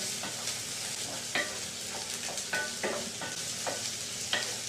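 Courgette and mushrooms with garlic sizzle in a frying pan, a steady hiss broken by several sharp scraping tosses of the pan spaced through the clip.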